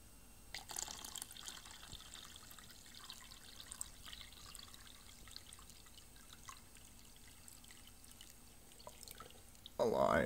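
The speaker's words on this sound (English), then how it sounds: "I'm gonna pour some more water in on top of it" Water is poured onto a Raspberry Pi submerged in a container, with soft trickling and dripping throughout and a louder splashing pour at the very end, alongside a speaking voice.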